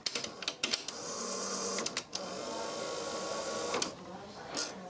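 A Yamaha KX-W202 cassette tape deck runs noisily. Its mechanism gives a close, continuous whirring rattle, broken by several sharp clicks and clunks near the start and a few more further on.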